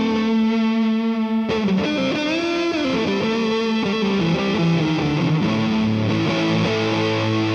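Electric guitar played through a Southampton Pedals Indie Dream overdrive, reverb and delay pedal, sustained overdriven chords with shifting notes and a washy reverb tail, loud and alone.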